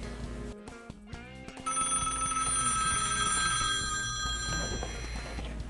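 A telephone rings out during a call on a Mythbusters test, a sustained electronic ringing that starts after a short stretch of clatter and continues loudly to the end, with no talking.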